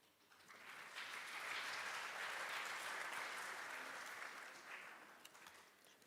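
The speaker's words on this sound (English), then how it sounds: "Can we give Dr. Sopela another round of applause, colleagues?" Conference colleagues applaud a presenting doctor. The clapping swells in quickly, holds steady and full through the middle, then thins out to a few scattered claps at the end.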